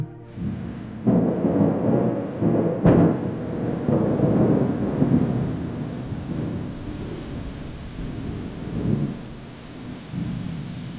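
Steady heavy rain pours down, with a sharp crack and rolling rumble of thunder early on, all loud and continuous with no voices.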